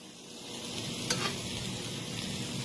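Sugary stir-fry sauce hitting meat in a hot pan for Asian lettuce wraps, a loud continuous sizzle with one sharper hiss burst midway, close and unbroken, no voices.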